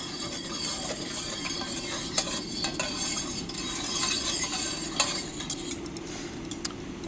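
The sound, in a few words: veal stock stirred into pan sauce with tongs, simmering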